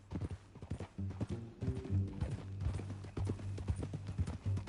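Horse hooves in Red Dead Redemption II clip-clop in a steady, brisk rhythm throughout, close and prominent over a low music bed, with a brief whinny-like tone mixed in.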